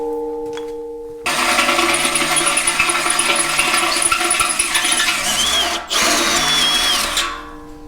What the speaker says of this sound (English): drill every one of these out to the full 7/16 diameter